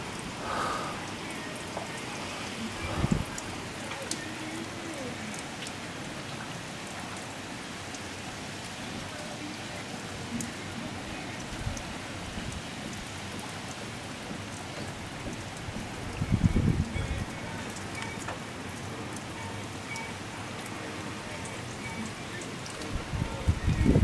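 Heavy rain hammers down steadily outside as a continuous hiss of drops on surfaces, with a couple of louder bumps and brief noises standing out over the constant wash.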